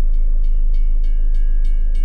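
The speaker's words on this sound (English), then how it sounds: "I could hear the train in the distance now," A train rumbles steadily in a radio drama effect, with a low continuous roar and regular clickety-clack beats repeating about every quarter second, sustained and fairly loud without speech.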